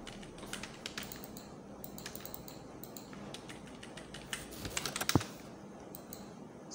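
Keys clatter on a computer keyboard as commands are typed into AutoCAD, a quick uneven run of close, light clicks with a louder burst of keystrokes near the end.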